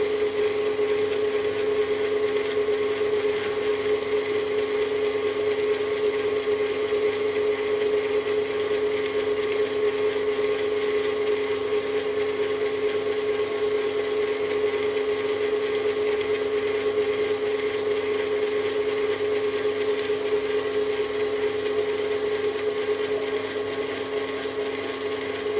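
A stand mixer beats egg into butter for rich pastry, giving a steady whirring motor hum with a constant pitch that runs evenly throughout and eases slightly at the end.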